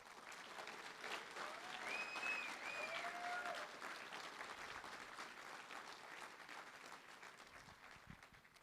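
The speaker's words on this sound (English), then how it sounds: "Please let's have a hand for Jan DeBouclair" Steady applause from an audience at a political candidate forum, a dense patter of many hands clapping that holds for several seconds and slowly tapers, heard at a moderate distance.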